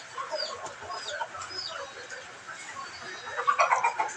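Chickens clucking near a coop in a steady, fairly close series of short calls and chirps, growing louder and busier toward the end.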